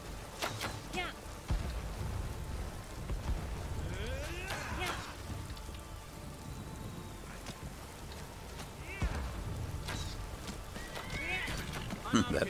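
Horse hooves clatter in bursts amid rain and background commotion, with occasional voices and scattered impacts throughout, in the video game Skyrim.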